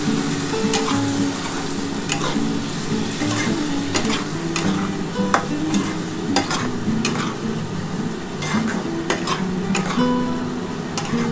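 Potato and Malabar spinach stalks frying with poppy seed water poured in, a steady loud sizzle under repeated scrapes and clinks of a spatula stirring in the pan.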